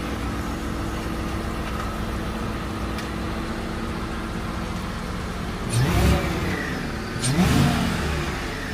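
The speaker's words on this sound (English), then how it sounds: "I think I can hear that whipple in there." A Ford F150 Shelby Super Snake engine idles with a steady mechanical drone, then revs twice, each surge bringing a rising Whipple supercharger whine over the roar.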